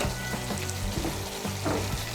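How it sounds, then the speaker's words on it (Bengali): Garam masala powder being stirred into an egg malai curry in a pan, a dense bubbling sizzle with low thick simmering tones and soft stirring, close and steady. "গরম মশলার গুঁড়োটাকে ভালো করে মিশিয়ে নেব"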